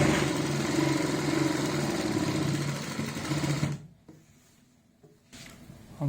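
An electric sewing machine stitches a kurti seam in a rapid, continuous run, fairly close, then stops abruptly and leaves near-silence with a couple of faint handling noises.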